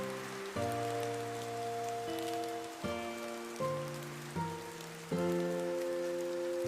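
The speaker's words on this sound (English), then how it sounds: "the rain noises." Steady rain pattering on a surface, played back from a recording and mixed with sustained, layered music chords that shift every second or so, all fairly loud and continuous with no talking.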